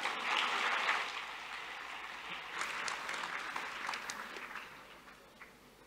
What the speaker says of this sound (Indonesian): Sekali lagi berikan tepuk tangan meriah